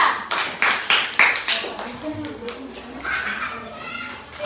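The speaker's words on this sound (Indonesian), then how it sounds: "tepuk tangan untuk kelompok 2" Brief bursts of hand clapping from schoolchildren in an Islamic religious education classroom, greeting a student group, quickly giving way to children and a teacher talking over fading claps.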